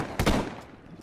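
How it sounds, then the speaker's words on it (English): Double-barrel shotgun firing in Ghost Recon Wildlands, a single close, loud blast with a short rumbling tail that fades within the second, no reload clearly audible. "So it looks like this is a double barrel shotgun."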